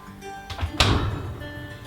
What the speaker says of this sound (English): Now listen to my door.